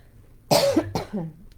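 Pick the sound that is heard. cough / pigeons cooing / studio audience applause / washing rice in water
cough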